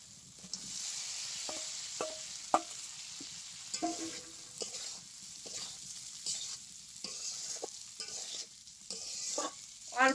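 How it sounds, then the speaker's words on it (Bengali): Cauliflower and potato hit hot oil and fried spices for a koi fish curry, giving a steady close sizzle broken by repeated scraping stirs of a spoon against the pan, with no voices. "এখন কফি আলুটা দিয়ে দিই।"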